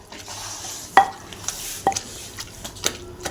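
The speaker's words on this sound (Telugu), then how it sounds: "తర్వాత ఎర్రగడ్డలు వేసి మెత్తగా దంచుకోవాలి." Onions are pounded into a ripe red chili chutney in a mortar. There are three sharp, separate thuds at uneven intervals, with soft grinding and scraping between them. The sound is close and moderately quiet, and no one speaks.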